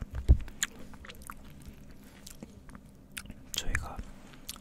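Close, soft chewing and biting on chicken breast topped with egg, in short bursts near the start and end with quieter moments between, no clear talking.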